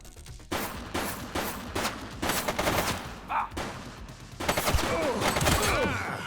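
Bursts of gunfire crackle in the police video game The Precinct, several rapid volleys and single shots spread over a few seconds, loud and close, with brief voice-like shouts mixed in.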